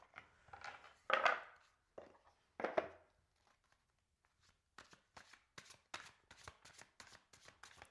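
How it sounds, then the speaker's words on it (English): Tarot cards being shuffled by hand, soft riffling bursts followed by a series of quick, light flicks and snaps as cards are pulled one after another, close and quiet with no talking. "let's look at these cards here and pull 3 cards for you"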